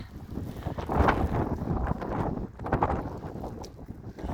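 Strong wind roars and buffets the microphone in rough, uneven gusts, a loud steady rush with no voices.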